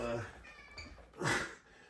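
A cat meows around feeding time while people talk indoors, the cries short and close and partly under the voices.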